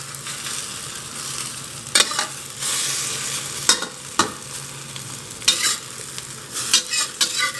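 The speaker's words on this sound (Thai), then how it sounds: "แล้วพอไข่เริ่มสุกใกล้หมดแล้วก็เบาไฟหน่อยนะ แล้วก็ทอดไปก่อน" A thick, fluffy Thai omelette frying in oil over high heat, a loud, dense crackling sizzle throughout, punctuated by repeated scraping strokes of a spatula against the pan, close and without speech.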